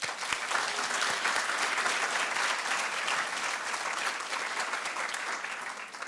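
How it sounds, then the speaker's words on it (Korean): Sustained applause from a congregation at an Easter morning worship service, a full, even patter of many hands that holds for several seconds before tapering slightly at the end. "성도 여러분을 위해서 우리 다시 한번 박수 한번 합시다"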